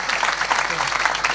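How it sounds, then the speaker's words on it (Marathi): Audience clapping at a Marathi kirtan, a dense burst of applause running through the whole brief moment, mixed with a speaking voice. "एकदा टाळी वाजवा आमच्यासाठी."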